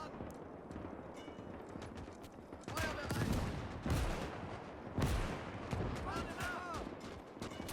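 Mortar shells and gunfire from the Gates of Hell war game rumble in repeated heavy bursts over a constant crackle of distant rifle fire, with dense overlapping impacts.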